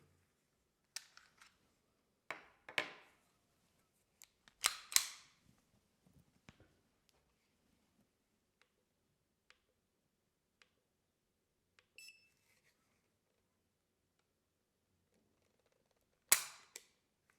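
Single-action trigger pull on a World War II era Walther PPK pistol measured on a tabletop: sparse sharp mechanical clicks and snaps, one louder cluster near the middle and a final crisp snap at the end, close and otherwise quiet.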